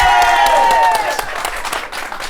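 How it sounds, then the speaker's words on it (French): A studio audience bursts into loud, dense applause that fades gradually over a couple of seconds, while a voice briefly speaks over it at the start. "dès que tu dis première télé, ils applaudissent"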